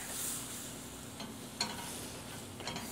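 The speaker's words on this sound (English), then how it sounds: "And stir that in. That's going to thicken up this caramel sauce that's in here." Caramel sauce with PB2 peanut powder and chocolate being stirred in a pan over low heat, a faint steady sizzle with a few soft scraping strokes of the spoon.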